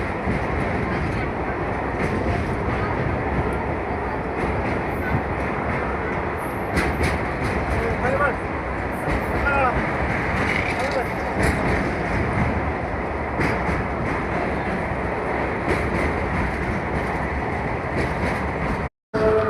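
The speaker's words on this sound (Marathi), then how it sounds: "चंद्रभागा नदीच्या वरून ब्रिज आहे आणि त्या ब्रिजवरूनच आपली ट्रेन जात आहे" A train crossing a bridge over the Chandrabhaga river near Pandharpur makes a loud, steady rumble and rattle that fills the whole stretch, with a brief dropout just before the end.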